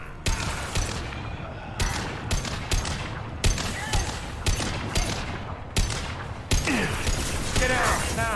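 Sustained sci-fi combat gunfire in Mass Effect 2, rapid volleys and automatic bursts hammering away almost without pause, loud and up front, with a whooshing, warbling effect near the end and faint voices underneath.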